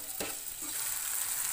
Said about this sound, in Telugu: సన్నగా తరిగిన టమోటా వేసి బాగా కలపాలండి